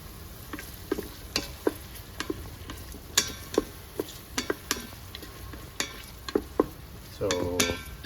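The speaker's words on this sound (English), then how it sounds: "So right now it's sauteing. We have it on saute mode." Beef sautéing on the sauté setting of an Instant Pot 9-in-1 electric pressure cooker for beef caldereta, with a steady low sizzle under many sharp scraping and tapping stirs, then a short louder sizzling burst near the end.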